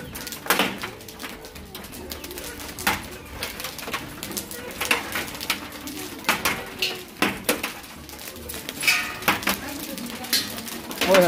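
Pigeons tap and coo on a shed roof in a village. Scattered sharp taps and knocks sound against a noisy, busy background, with soft cooing mixed in throughout.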